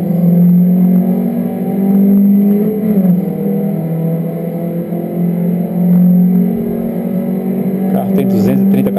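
A Honda Fit car with 230 horsepower in the Assetto Corsa racing video game, its engine droning steadily with rises and falls in pitch as it revs, loud and continuous throughout.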